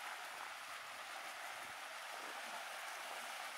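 A natural creek at a salmon hatchery flows as a steady, broadband wash of water, continuous and fairly faint throughout, with no voices.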